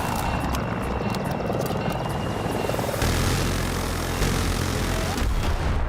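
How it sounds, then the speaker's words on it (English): A helicopter in a video game thrums with a steady, loud rotor wash that fills the whole stretch alone, mixed with faint crackling gunfire in the background. "I gotta get back in the helicopter."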